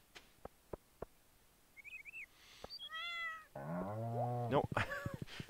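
A cat in the farming video game Stardew Valley gives a clear meow after sparse footstep-like ticks and a short chirp, followed by more meowing mixed with quieter in-game sounds.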